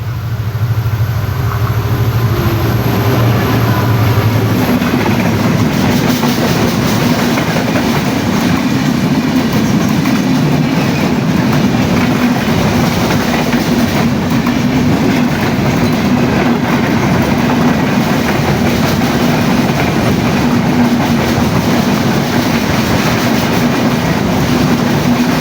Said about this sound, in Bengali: এই পাশ দিয়ে সম্ভবত এটা আপনাদের রাজশাহীর ট্রেন